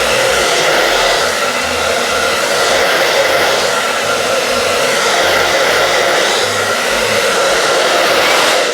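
Hair dryer blowing steadily at close range during noise-desensitisation training for a dog afraid of sounds, a continuous broadband whoosh with no breaks and no voices.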